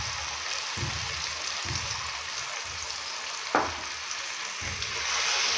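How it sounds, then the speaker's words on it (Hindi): Tomato paste hits a pan of frying ginger, garlic and chilli paste, a steady close sizzle running throughout with a brief sharp hiss burst midway and a few soft low stirring thumps. "अभी मैं इसके अंदर टमाटर का पेस्ट डालूंगा।"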